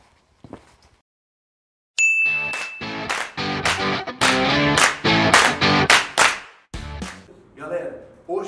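A bright notification-bell ding rings out once with a lingering tone, then is quickly buried under a voice talking and dense rhythmic sound.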